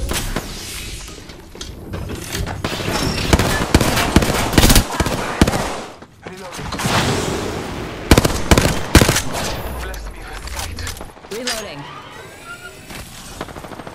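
Rapid bursts of automatic gunfire and sharp shots from the battle royale video game Apex Legends, loud and close, coming in dense volleys with brief pauses, mixed with impact clatter and some talk.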